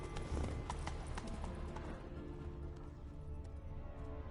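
Hooves of Roach, a horse in the video game Witcher 3, clip-clop in a steady, fairly quiet walking rhythm over soft game ambience.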